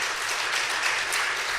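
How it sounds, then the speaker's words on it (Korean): Church congregation applauding, a continuous even patter of many hands clapping throughout a short burst. "이 시간에 박수로 좀 격려해 주실까요?"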